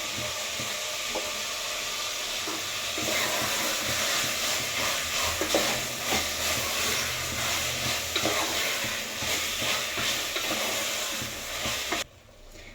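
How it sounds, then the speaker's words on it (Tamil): Tomatoes frying with a little salt for a mutton biryani, stirred in the pan: a steady, close, loud sizzle with scraping strokes throughout, cutting off abruptly near the end to a quieter hiss. "தக்காளி வதங்கிறதுக்காண்டி கொஞ்சமா உப்பு சேர்த்துக்கலாம்."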